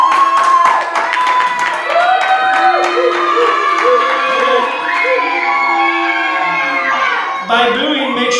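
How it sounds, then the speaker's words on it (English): An audience in a magic lesson setting screams and cheers to vote, loud sustained crowd yelling with children's high-pitched shouts and whoops, dipping briefly before a final surge. "If you think his magic show was better, scream for him."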